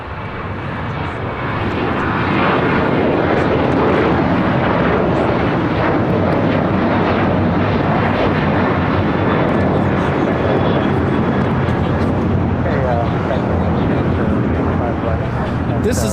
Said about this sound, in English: This is Alaska Airlines 1025 taking off to Everett Payne Field on the 737-900